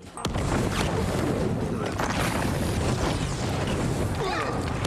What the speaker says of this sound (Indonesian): tiba-tiba barang itu meledak akibat bom yang dipasang Kapten Jin